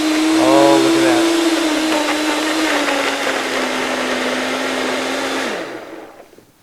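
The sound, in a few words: blender blending gnocchi sauce with olive oil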